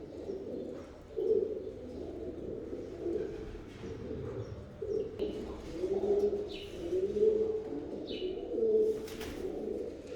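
Pigeons or doves coo repeatedly near a raised clay water pot where birds climb up to drink, the soft rounded calls recurring through the clip over a low background murmur.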